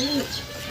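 Racing pigeon cooing at close range in a brief soft low coo, heard alone at a loft in the Philippines.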